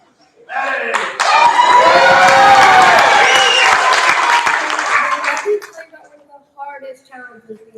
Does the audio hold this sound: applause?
yes